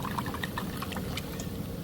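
Wine pours in a steady, close trickle into a pan of seafood risotto with broth, a continuous liquid stream with no talking.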